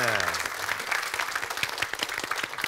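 A studio audience on a Korean TV policy quiz show breaks into applause, a dense burst of clapping as a voice tails off at the start, continuing with sharper individual claps.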